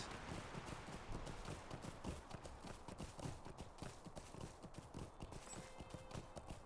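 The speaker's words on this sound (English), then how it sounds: "Shallow enough for our horse." Horse hooves clip-clopping steadily while riding in the Lord of the Rings Online video game, an even rhythmic trot at moderate distance over a soft ambient background, with no speech.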